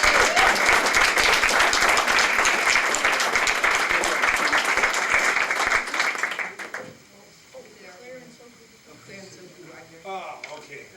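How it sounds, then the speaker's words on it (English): Students are applauded at a school district board meeting: a steady round of clapping from the room lasts about six seconds, then cuts off to quiet murmuring and faint talk. "Let's give these students one more round of applause."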